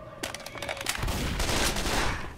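Bursts of rapid gunfire in the shooter game Left 4 Dead 2, a quick volley of sharp shots followed by a dense, sustained roar of firing, loud and close.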